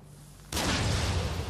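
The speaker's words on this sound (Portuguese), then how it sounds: "eu vou dar um tiro de fuzil nele" A rifle shot in Nioh 2 lands as one sudden loud blast, followed by a dense, sustained roar of noise.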